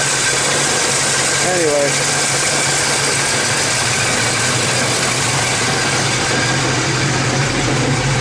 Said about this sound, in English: It sounds like it's the flywheel to the torque converter is loose.